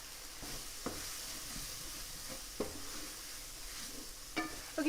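Chopped onions and tomato sizzling with coriander and curry powder in a pan, a soft continuous frying hiss broken by a few clicks and stirring scrapes.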